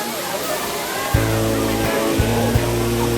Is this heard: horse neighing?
no